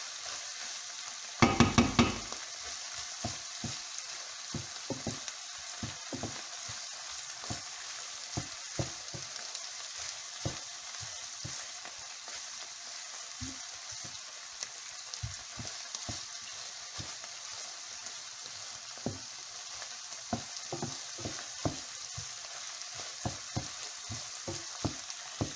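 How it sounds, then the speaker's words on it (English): Risotto ingredients frying in a pan during a traditional Italian home cooking session, a steady soft sizzle with scattered light clicks and pops throughout, one brief louder clatter near the start. "You can really hear it start to sizzle now."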